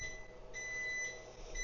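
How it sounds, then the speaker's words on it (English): An oven's electronic buzzer gives a steady, high, faint tone for under two seconds to signal that the oven is set, in a kitchen where Aussie meat pies are being made; no talking. "That's the buzzer telling us our oven is set to go"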